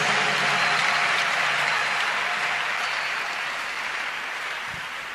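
A church congregation breaks into sustained applause acclaiming Jesus, a dense, steady wash of clapping from a large crowd that slowly fades toward the end, with no voices over it.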